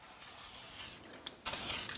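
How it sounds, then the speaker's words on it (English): Non-stick coconut oil cooking spray hisses from a can in a few short, light bursts, with a brief faint spritz first and a stronger close spray near the end. "I'm going to use a non-stick coconut oil spray, real light."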